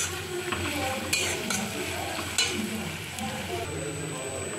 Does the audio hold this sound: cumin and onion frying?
yes